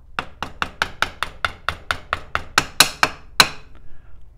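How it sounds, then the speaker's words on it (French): A screwdriver handle raps on gearbox shift forks, about a dozen sharp, evenly spaced knocks that grow slightly louder toward the end, close and clear with no talking. "pour vérifier que c'est bien embuté, je vais venir taper avec le manche d'un tournevis"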